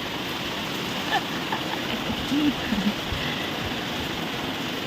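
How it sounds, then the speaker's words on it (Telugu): Heavy, fast rain pours down in a steady, dense wash of noise throughout, with faint voices now and then beneath the downpour. "ఫుల్ వర్షం పడుతుంది స్పీడ్గా"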